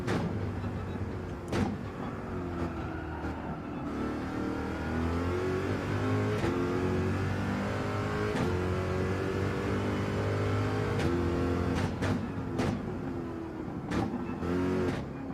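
A Gran Turismo GR.3 race car's engine droning steadily through a lap at the Daytona road course, the pitch rising and falling with gear changes while sharp clicks and taps punctuate it, with no talk over it.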